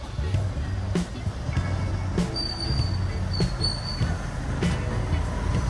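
Vehicles stuck in a slow traffic block on the Thamarassery mountain pass road give a steady, loud engine rumble with a faint high whine and occasional sharp knocks and clanks throughout.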